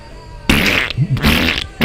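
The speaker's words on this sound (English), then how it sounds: "all the porkers that Druten sent in are farting their fat fucking asses off" A farting sound effect from the 1986 comedy film Hamburger: The Motion Picture plays loud and close after a brief quiet, with three blaring, buzzing blasts in quick succession.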